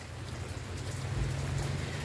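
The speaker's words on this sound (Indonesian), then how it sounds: "Oke, karena ini hujan ya teman-teman." Steady rain falls on an orchid garden planted with shade trees, a dense even hiss of drops with a low rumble underneath, continuous and fairly close throughout.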